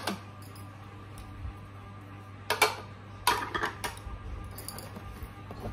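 Two bowls and their lids, part of a wedding gift set, are picked up and handled, giving a few sharp close clinks and clattering bursts between stretches of quiet background hum.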